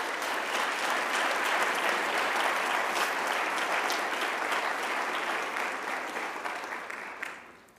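Steady audience applause for student honorees at a high school honors ceremony during a business meeting, a dense even roar of many hands clapping that holds for several seconds and then thins and fades near the end.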